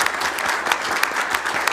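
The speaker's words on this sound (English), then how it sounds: "Let's give them a round of applause." Audience applause at a council meeting, steady clapping from a room of people lasting throughout, fairly close and even in level with no talk over it.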